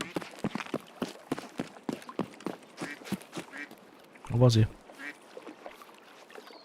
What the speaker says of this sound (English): I hear it quacking.